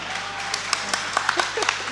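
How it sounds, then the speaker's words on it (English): Audience at a plenary session applauding a minister, a thin scatter of separate claps over a murmuring room, light and uneven rather than a full ovation, with voices audible beneath. "Please, a round of applause for the minister."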